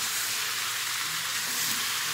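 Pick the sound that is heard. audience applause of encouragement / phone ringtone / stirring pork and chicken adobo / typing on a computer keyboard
stirring pork and chicken adobo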